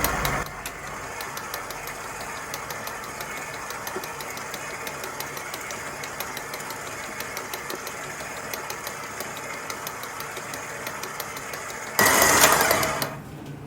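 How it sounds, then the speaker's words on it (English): A stand mixer runs on low whipping chocolate buttercream, giving off a steady, rapid mechanical whir with a ticking motor rhythm, close and even throughout, ending in a brief louder burst. "So just with your mixer on low, just go ahead and start to add that in there."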